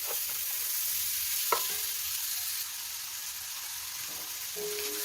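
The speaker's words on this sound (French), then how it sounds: "On continue de remuer nos champignons. Jusqu'à ce que ça soit cuit." Mushrooms stirred in a pan as they cook for beef bourguignon give a soft, steady sizzle with an occasional light scrape of the utensil, fairly quiet and close throughout.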